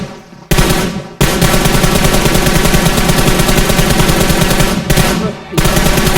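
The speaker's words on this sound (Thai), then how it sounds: "ยิงมันเจ็บชิบหายไม่ตายเลย" Loud, close machine-gun style automatic fire in PUBG on the Bootcamp map, long unbroken rattling streams separated by two brief pauses, dominating everything with no voices.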